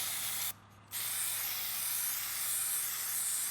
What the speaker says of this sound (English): And you spray the activator on one side.